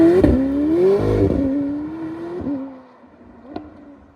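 A McLaren 750S Spider's engine drones and then revs upward while driving, a loud rising note that eases off and fades, with a short blip near the end.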